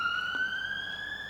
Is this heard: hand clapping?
no